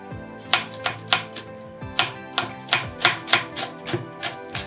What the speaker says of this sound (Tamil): இந்த மாதிரி தான் கட் பண்ணனும் இந்த கேபேஜும் வந்து